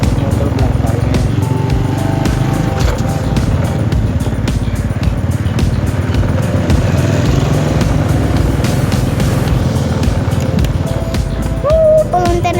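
A motorcycle engine drones loud and steady throughout a ride, with a person talking over it.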